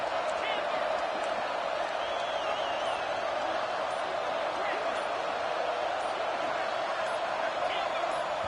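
Loud roar of a college football stadium crowd at a Georgia Tech versus Pittsburgh game, a steady dense wash of cheering and noise on third down, with a commentator's voice over it.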